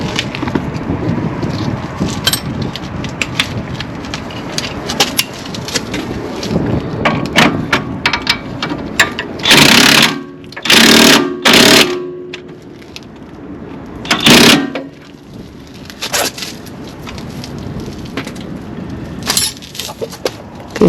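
Strut bolts being tightened on an Acura TSX wagon: a string of close ratcheting clicks and scraping metal, broken by several loud, dense bursts of tool noise, with no talk.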